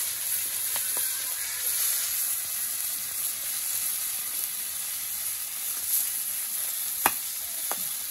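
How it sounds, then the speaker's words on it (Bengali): Boal fish curry boils vigorously in a pot over a wood fire, a steady close bubbling sizzle with occasional sharp pops and crackles from the fire, no voices. "চরম ফুটছে বোয়াল মাছটা।"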